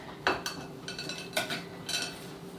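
A utensil clinks and scrapes against a mixing bowl in a few short strokes as nuts are stirred into cookie dough for oatmeal triple chocolate cookies, close and fairly loud with no voices.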